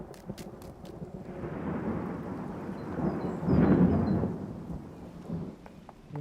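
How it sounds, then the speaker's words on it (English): A deep rumble of cartoon thunder swells and rolls for several seconds, peaking loudly midway, over a steady wash of falling rain. "Thunder won't hurt you, Grunty."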